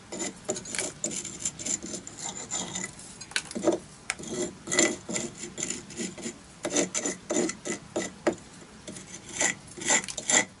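A hand scraping tool rasps mortar off the corners of a brick arch, giving repeated short scraping strokes in an uneven rhythm, close and fairly loud, with no voices.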